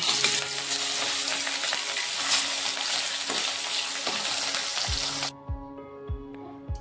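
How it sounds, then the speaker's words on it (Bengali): Katla fish pieces fry in hot oil in a kadai with a loud, dense sizzle and spatter, joined by clattering stirs; the sizzle drops away near the end, leaving a few sharp knocks. "তেল গরম হয়ে গেছে এখন মাছগুলো দিয়ে দেব"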